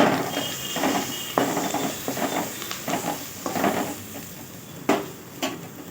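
A spoon stirring beetroot rasam in a pot on a simmering stove, soft repeated scraping and clinking strokes over a steady background hiss, moderately quiet and close.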